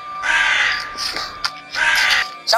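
A crow gives loud, harsh caws close by in an overgrown outdoor area, two long raspy calls with a short gap, followed by a brief higher squawk at the end.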